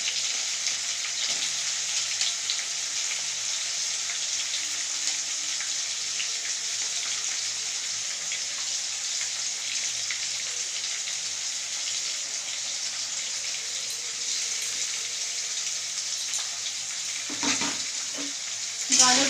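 Carrots fry in a pan on a gas stove over high flame, an even loud sizzle that holds steady for a long stretch, with a few stirring knocks near the end and no talk.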